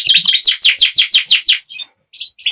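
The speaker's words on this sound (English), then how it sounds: "That's the 3 parts dark cock you can hear singing." A three parts dark Border canary cock sings loud and close, a rapid run of bright rhythmic trills followed by a brief pause and a few short sharp chirps.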